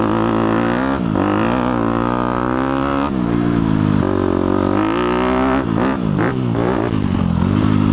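A 2018 Honda CRF250 big bore dirt bike ridden on a track, loud and close, its engine revving up and down through repeated throttle bursts and gear changes with rising and falling pitch.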